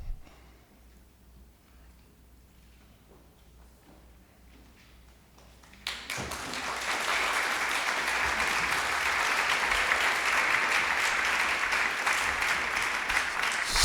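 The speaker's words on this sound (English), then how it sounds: "So while you're giving your applause" Audience applause at an evening panel event, starting abruptly about six seconds in after a quiet room and holding steady, loud and dense until the end.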